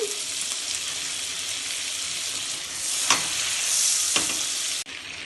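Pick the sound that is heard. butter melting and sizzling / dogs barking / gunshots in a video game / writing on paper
butter melting and sizzling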